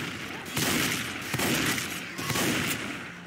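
Gunfire in Left 4 Dead 2 in the Left in China setting: sustained loud bursts of shots with a few sharper cracks standing out, over a continuous noisy game background.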